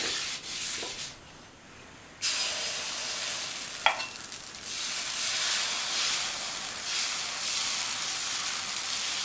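Pasiparuppu dosa batter poured onto a hot griddle at medium heat, a steady close sizzling hiss with a short quiet gap early on, then continuous frying sound, no voices.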